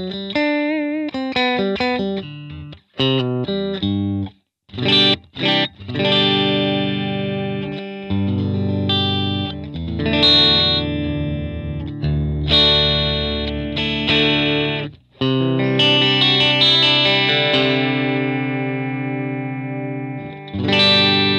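An electric guitar on the middle pickup position plays a lead with heavy distortion, chorus and reverb: sustained chords and bent notes in phrases separated by brief gaps, loud and close with no talking.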